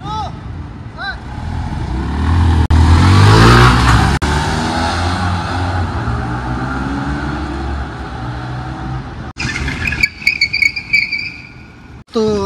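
A motorbike pulls away in first gear with a loud, rising engine roar close by, then settles into a steady run, and a few sharp noises follow near the end.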